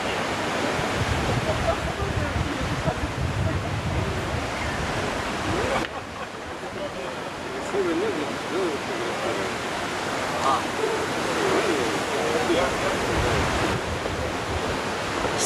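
Sea water rushes and hisses steadily past a fast-moving boat heading from Nice toward Monaco, a loud continuous broadband wash with wind buffeting the microphone and a brief dip midway.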